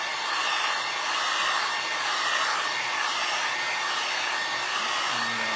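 Hair dryer blowing steadily close by to dry decoupage glued onto an old vinyl record, a loud even whoosh that holds for several seconds, with no talking.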